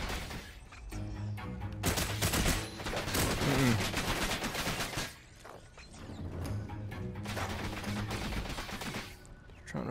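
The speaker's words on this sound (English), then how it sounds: "I think I shot that dude in the head" Gunfire and clattering mechanical weapon sounds from the VR shooter game Farpoint, dense bursts of shots mixed with game effects and music across the whole stretch, loud and busy with no talking.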